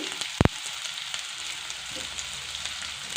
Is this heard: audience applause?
no